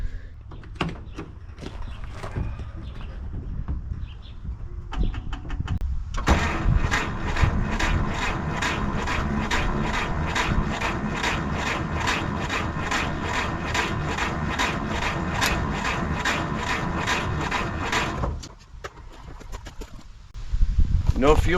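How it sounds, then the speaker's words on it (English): Rebuilt engine of a classic Willys truck cranking over on the starter, a steady rapid chugging rhythm that runs for about twelve seconds, close and loud, then stops abruptly, with brief speech before and after. "It's probably going to crank for a little bit before we get fuel up to the carburetor."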